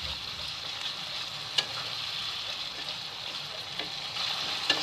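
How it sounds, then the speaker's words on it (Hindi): Egg curry masala is mixed into ghee in a pan, a continuous soft sizzle with occasional light spatula knocks, close up and steady, no voices. "इसमें इसको मिक्स करना है इसमें।"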